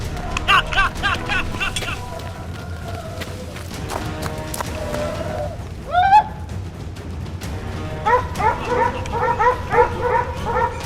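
Hunting dogs bark and yip in quick bursts on a hunt in Trinidad, with a whimpering whine partway through, over a busy background with voices.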